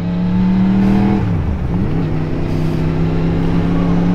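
A car passes close by, its engine tone rising and then dropping in pitch as it goes past, loud and alone with no talk over it.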